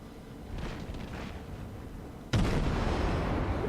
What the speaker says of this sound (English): I'm going to use my guns for a bit.